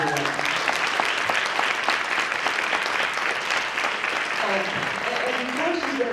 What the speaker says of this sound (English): Can you please give a round of applause to Joetta?